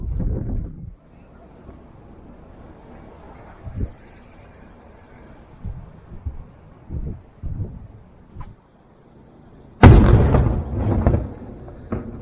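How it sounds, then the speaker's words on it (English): A distant cannon shot thumps from across the large natural harbour at Valletta, Malta, followed by a louder close blast near the end, with wind noise on the microphone and someone talking. "There seems to be some random thing going on with a cannon over on the other side of one of the largest natural harbours in the world"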